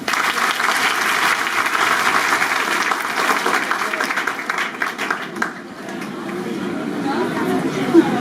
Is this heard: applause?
yes